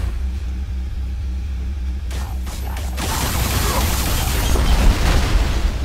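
A heavy explosion in the sci-fi shooter game Alien Rage breaks in partway through, a loud broadband blast that rolls into a sustained deep rumble, following a low mechanical hum.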